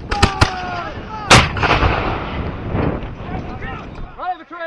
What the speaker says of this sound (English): Gunfire! Gun!